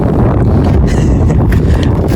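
Strong wind buffets the microphone in a loud, continuous low roar with gusty surges, no voices.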